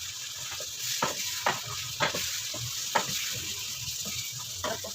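Shrimp sizzling as it hits a pan of garlic and ginger, a continuous frying hiss punctuated by several sharp spatula scrapes and clacks at irregular intervals.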